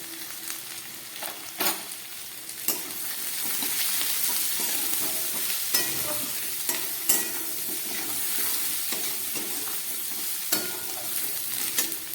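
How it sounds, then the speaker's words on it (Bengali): Potatoes and onions with salt and turmeric fry in a pan with a continuous loud sizzle, and a spatula scrapes and clicks at intervals as the mixture is stirred. "আলু পেঁয়াজটা অনেকটাই ভাজা হয়ে গেল, এবার দিয়ে দিচ্ছি পরিমাণ মতো নুন"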